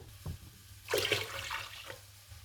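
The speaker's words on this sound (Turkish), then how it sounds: "Ekmeğimizin daha yumuşak olması için 400 milim de ılık su koyacağım." Lukewarm water poured into flour for bread dough, a short gushing splash of about a second that fades into trickling, close and fairly quiet.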